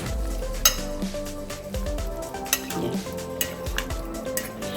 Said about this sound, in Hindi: अब हम चिकन को इसके अंदर अच्छी तरह से मिक्स करेंगे।